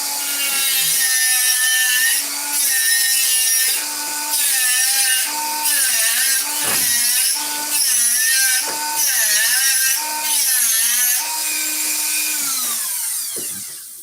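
Old material being scraped off a surface by hand, a steady rasping drag with shrill, wavering squeals that rise and fall over about fourteen seconds, loud and close with no talk.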